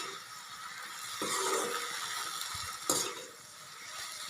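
Dried fish is frying with amita (papaya) flowers, salt and turmeric in a pan, giving a steady sizzle broken by a couple of scraping stirs, with no voices.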